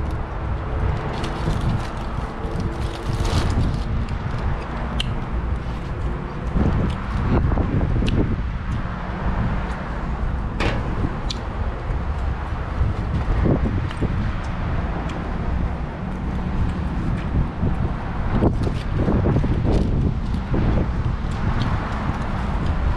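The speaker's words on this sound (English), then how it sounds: "Oh man, it's so windy, everything is flying around" Steady wind buffets the microphone with low rumbling gusts throughout, with faint background traffic noise and occasional bumps.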